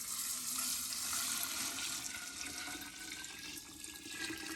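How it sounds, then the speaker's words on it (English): Pickling brine of water, vinegar and salt pours into a jar in a steady, hissing stream, faint and continuous with no voices. "Pour our brine in."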